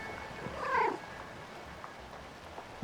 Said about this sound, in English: See, look, one of the kitties.